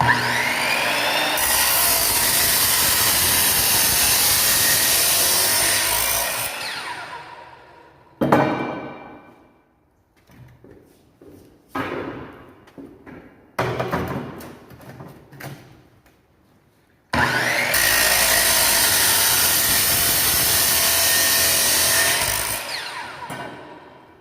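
An abrasive cut-off saw slices through a batch of pieces in long, loud grinding bursts, separated by quieter stretches of clanking and handling of the workpieces between cuts.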